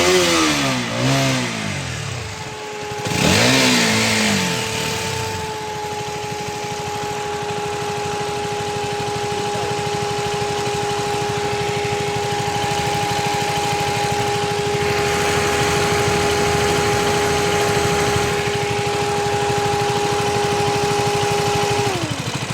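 A KTM motorcycle being checked for an overheating and fuse-blowing fault revs up in a few quick sweeps, then settles into a long steady run with a constant whining tone held throughout, with no talk over it.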